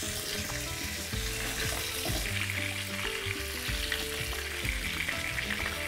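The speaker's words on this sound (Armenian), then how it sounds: "քանի դեռ տաք է, քունջուտը կհասցնի տապակվել։" Sesame seeds sizzle and crackle in a hot pan with the heat just switched off, a steady close frying hiss with faint low background tones beneath it.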